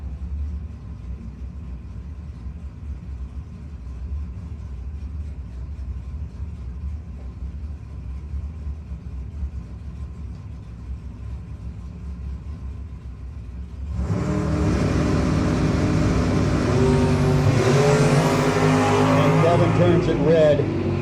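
At a no-box 660 drag racing shootout, a Roadster and an S10 idle and rumble before launching in a sudden loud roar of engines. A commentator talks over the whole run.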